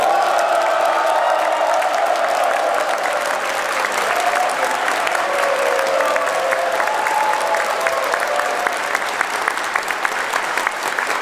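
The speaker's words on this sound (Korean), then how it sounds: "큰 박수로, 큰 한으로 맞이해 주시기 바랍니다" A large crowd at a welcome event for the president applauds steadily and loudly for the whole stretch, with a faint murmur of voices beneath the clapping.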